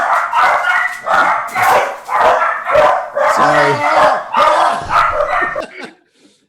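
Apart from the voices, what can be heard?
dogs barking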